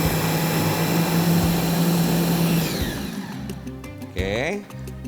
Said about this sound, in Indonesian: di sini waktu proses blenderan itu dia mateng ya. Sampai halus ya.